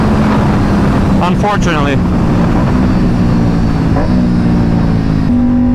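A tuned KTM RS457 motorcycle with a Gabro map and SC Project S1 exhaust drones loudly and steadily at high revs near its limiter, while a rider talks briefly over the engine noise.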